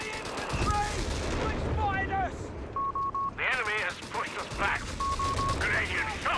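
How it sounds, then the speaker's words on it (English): Machine gun fire from the Company of Heroes 3 video game sounds as rapid bursts of gunfire mixed with battle effects and electronic beeps, under continuous commentary. "Machine gun pushes up."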